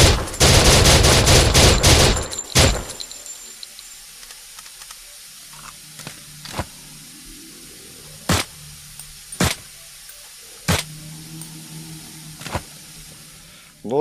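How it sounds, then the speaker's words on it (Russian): Gunfire in a survival video game starts with a dense, loud burst. Single sharp shots then ring out one at a time at irregular gaps over a quiet background hum. "Блин, ну если там стрелять нельзя, придется пострелять тут."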